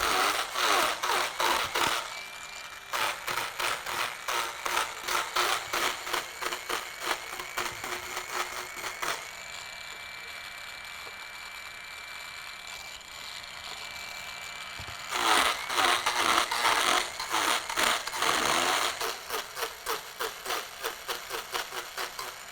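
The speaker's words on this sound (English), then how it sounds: "So I break out the grinders and do some serious grinding work." Grinders work on a woodturning tool in a woodturner's shop, giving bursts of rough, buzzing grinding with a steady high whine between them, loud and close.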